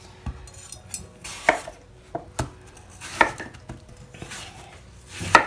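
Knife chopping collard greens on a cutting board, a handful of distinct cuts spaced about a second apart, close and fairly crisp, with no talking.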